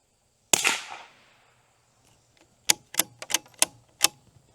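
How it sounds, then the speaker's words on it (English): Rifle shots with Federal High Velocity Match ammunition: one sharp crack with a decaying tail, then after a pause a quick string of six close, loud reports in an uneven rhythm. "Now we're shooting some Federal High Velocity Match."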